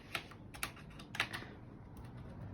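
Keys clack on a mechanical computer keyboard as a new one is unboxed and set up: a few sharp, separate key strikes in the first second and a half, then quiet with a faint background hum and no talk.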